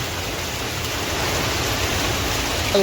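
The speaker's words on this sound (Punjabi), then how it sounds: "ਕਿੰਨਾ ਤੇਜ਼ ਕਿੰਨੀ ਸਪੀਡ ਨਾਲ ਮੀਂਹ ਪੈ ਰਿਹਾ" Heavy rain pours down during a storm, making a dense, continuous roar that stays loud and even throughout, with no voices.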